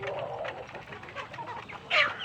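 Hens cluck and chicks peep in a farmyard flock, with soft overlapping clucks and a louder squawk near the end.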